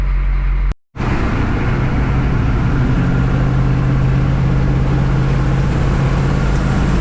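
A large 6.2 V8 truck engine idles loudly and steadily after a brief silent gap, with a deep, constant rumble and a low hum throughout.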